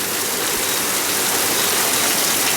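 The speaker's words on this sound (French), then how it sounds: "Et donc à de la pluie et de l'orage." Heavy tropical rain shower from a tropical depression, a loud dense continuous roar of falling water with no gaps.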